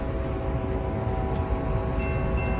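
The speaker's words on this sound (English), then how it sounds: "Well, it's a train," A regular freight train passes through Missouri City near Houston with a Tier 4 locomotive leading, a loud steady rumble and roar of engine and rolling cars, close by and continuous, with no voices.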